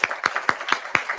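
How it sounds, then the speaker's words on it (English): Sparse clapping closing a virtual conference keynote, about five sharp, evenly spaced claps in 1.2 seconds, close and moderately loud with no voices. "Please give her a round of applause again."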